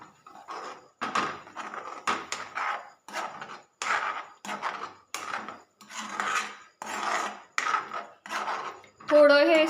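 Onion, tomato and ginger-garlic paste stirred in a pan: a rhythmic series of about a dozen close scrapes and clacks of a utensil against the pan, with short pauses between strokes.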